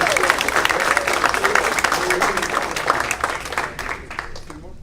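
A comedy club audience in Fort Worth claps and cheers loudly and continuously for a comedian taking the stage, the applause thinning out toward the end.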